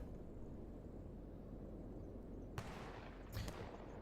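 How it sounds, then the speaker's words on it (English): Distant video-game gunfire in S.T.A.L.K.E.R. GAMMA cracks twice over a constant low rumble, one single shot followed by a slightly louder burst. "let me just pause the in-game so you don't hear the gunshots going on in the background"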